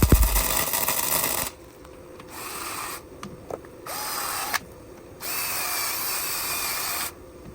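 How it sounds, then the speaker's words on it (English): Tack welding a nut onto an E46 oil pump, beginning with a loud broadband crackling burst, then several short welding bursts separated by brief pauses, close up and with no talking. "Now we're just gonna tack it on and weld it."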